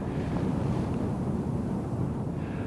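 Strong wind roars across an exposed snowy fell summit in Lapland in winter at nearly twenty degrees below zero, a steady loud buffeting rumble battering the microphone without a break.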